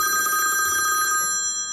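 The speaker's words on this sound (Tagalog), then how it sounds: "Telepono." A telephone bell rings in a steady electronic trill for a moment, then stops abruptly, with no voices over it.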